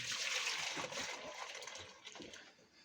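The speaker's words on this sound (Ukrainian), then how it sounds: "Виливаємо це, що надоїли вручну." Hand-milked goat milk pours from a container into a saucepan on a scale, a soft continuous splashing gush that tapers off near the end, close and quiet with no talking.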